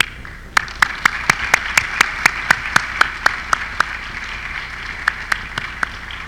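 Audience applause at a celebration-of-life memorial service, with steady, evenly spaced sharp claps standing out over a soft crowd background for several seconds.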